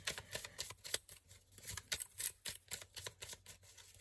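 Tarot cards being shuffled for a nine-card spread give off quiet, close riffling and soft slapping bursts in an uneven rhythm, with no voice over them.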